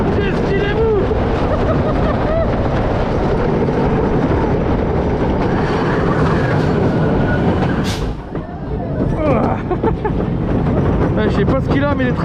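A roller coaster train runs at Parc Asterix with a steady, loud roar and rattling under excited voices, then a brief dip before the rumble surges back.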